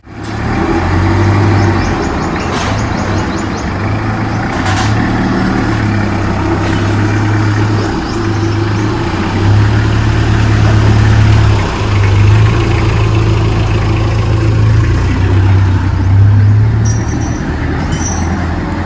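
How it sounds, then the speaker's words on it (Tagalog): A customized Mitsubishi L300 van with a side door runs close by, its engine giving a loud, steady idle with a low hum that shifts slightly in pitch from time to time. "Makinig yung makina."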